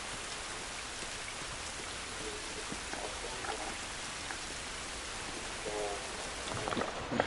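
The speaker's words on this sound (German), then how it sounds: "Dieser Regen ist nicht gut für uns." Steady, dense rainfall in The Last of Us, a continuous hiss of drops pattering on surfaces that fills the whole scene, with no voices over it.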